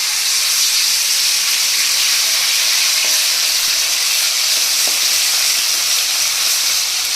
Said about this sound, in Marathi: तर वाटण आहे ना मित्रांनो ते आधी आपण मस्त तळून घेऊयात